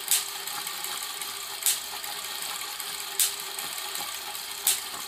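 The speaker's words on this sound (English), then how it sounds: "So you can hear those cracks in the background." A large Wimshurst generator is spun while sharp spark cracks snap at regular intervals, four distinct bursts over a steady mechanical whir, heard from some distance.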